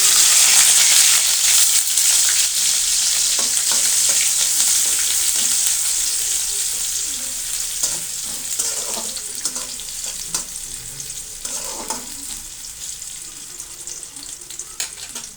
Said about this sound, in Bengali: আমি এখানে তেল দিয়ে দিয়েছি, দিয়ে দিলাম পেঁয়াজ কুচি